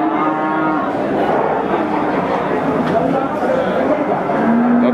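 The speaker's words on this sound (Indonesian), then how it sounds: "Situasi dan kondisi dari pasar sapi Wirosari." Several cows moo near and far over the constant din of the Wirosari cattle market in Grobogan, Central Java, with people talking throughout and a final long moo closing out.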